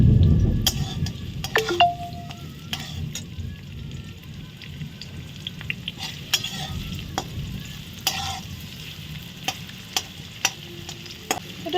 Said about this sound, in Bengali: প্রথমেই লাগবে পেঁয়াজ কুচি, এটাকে ভালো করে নাড়াচাড়া করে নেব।